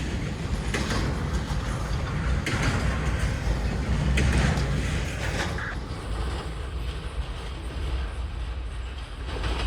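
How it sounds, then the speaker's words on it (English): A very short freight train glides past on the rails down a hill, a continuous close rumble with clicking wheel joints and metallic squeals, steady throughout before easing slightly toward the end. "What a tiny train."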